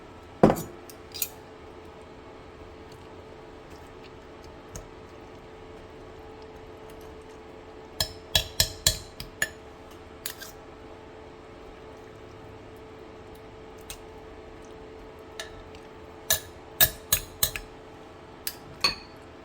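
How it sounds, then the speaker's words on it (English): Cooked turkey is lifted from a pot and deboned for gumbo greens, with scattered clinks and clatters of utensils against the pot, in short clusters over a steady low kitchen hum. "I just want to take my turkey out of the pot and I'm just going to debone it"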